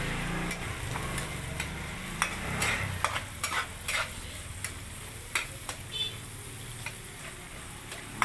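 Garlic and onion sauté together in a pan with a constant sizzle, while a spatula scrapes and taps against the pan again and again in an uneven rhythm, close and fairly quiet.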